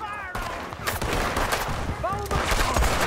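Gunfire in the Red Dead Redemption 2 video game, a few sharp shots amid a busy, loud action scene with layered effects; voices are talking.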